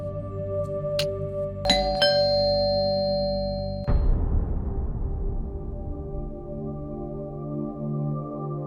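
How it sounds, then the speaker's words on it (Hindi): A doorbell rings with several bright chime tones that ring out and overlap, followed by a lower clanging note that decays slowly over a few seconds, with no talk. "मना किया था ना आपको डोरबेल बजाने को।"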